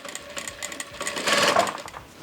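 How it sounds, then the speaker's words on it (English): A Vevor industrial sewing machine stitches a zippered clutch, running in a steady close whir that builds louder toward the middle and then eases off, with no talking. "Go ahead and sew some of this down."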